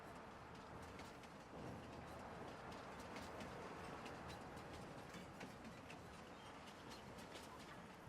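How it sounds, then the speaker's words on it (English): A train pulls into a station in the Farming Simulator 22 video game, a faint, steady rumble with rhythmic clicks from the wheels and faint bird calls in the background, no talk. "So we just need to wait for this train to come in and then we'll"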